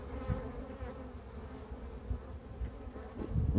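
Honey bees from a swarm, densely crowded in a hive box, humming in a steady, close, continuous drone with no voices.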